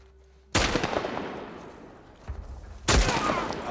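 Loud gunshots ring out in The Last of Us remake: one heavy blast with a long reverberating tail, a softer shot, then another powerful blast close by.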